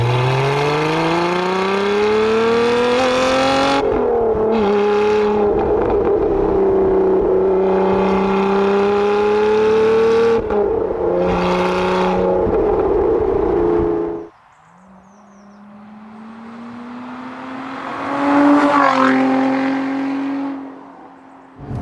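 A Lotus Evora's Toyota 2GR-FE V6 engine revs hard and climbs steadily, drops off abruptly, then surges again in a second loud rev with no talking.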